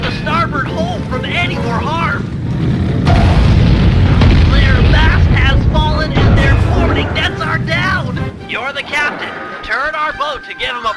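Ship cannons boom in a broadside during a naval battle in the video game Sly 3: Honor Among Thieves, with heavy rumbling blasts and explosions mixed under continuous character dialogue.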